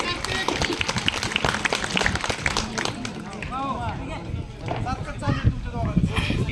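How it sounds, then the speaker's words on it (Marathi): A crowd claps and cheers for both wrestlers at a village kusti wrestling bout, with dense, steady applause running throughout beneath an announcer's voice. "टाळ्या करा दोघांसाठी सगळ्यांनी"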